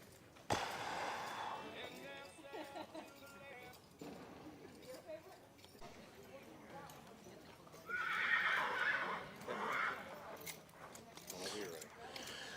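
A horse at a stable whinnies and its hooves clip-clop, with loud neighs in the later seconds while people talk in the background.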